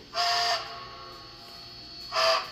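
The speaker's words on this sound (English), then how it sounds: "Now F3 is a short whistle" A Bachmann Spectrum USRA 2-10-2 model steam locomotive with WOWSound gives two short, sharp steam whistle blasts separated by a hissing pause, close and clear.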